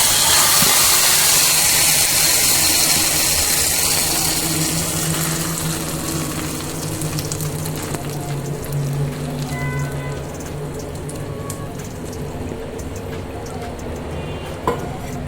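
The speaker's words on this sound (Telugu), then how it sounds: "దీంట్లో తాలింపు పెట్టేద్దాం." Tempering of spices sizzling in hot oil for peanut chutney, a loud, steady hiss and crackle that slowly eases over about fifteen seconds, with no talking.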